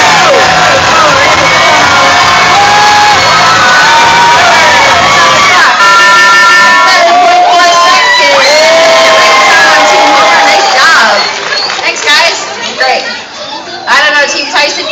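Audience at an animal actor show cheering on racing dogs: loud crowd chatter, whoops and children shouting, with an amplified voice talking over the excited noise throughout.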